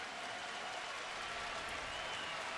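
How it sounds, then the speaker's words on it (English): Baseball crowd at a Texas at Cleveland game swelling into a broad, steady roar of cheering and applause, distant and continuous throughout. "Crowd comes to life."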